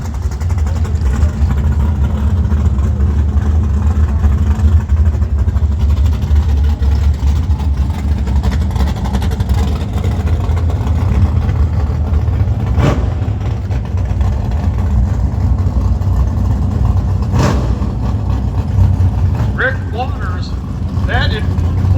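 A 1962 Pontiac Tempest twin turbo rumbles at a steady idle nearby, a low continuous engine drone throughout with a couple of brief sharper bursts, while people talk over it.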